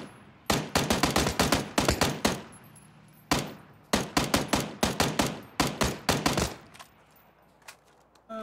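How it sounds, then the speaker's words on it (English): Rapid bursts of automatic gunfire in a PUBG squad match, loud and close, in repeated clusters of sharp shots with brief pauses between volleys. "Some shots there."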